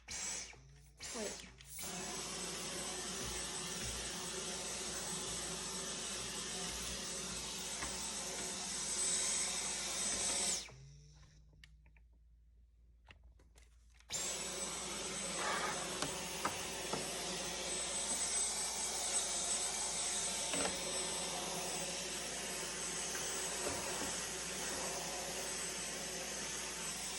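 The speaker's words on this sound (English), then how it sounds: "Now I have to vacuum out that spot where the piano was" Vacuum cleaner running steadily on the basement floor where a piano used to stand, a loud continuous whine that cuts out for a few seconds and then restarts.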